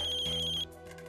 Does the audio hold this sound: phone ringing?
yes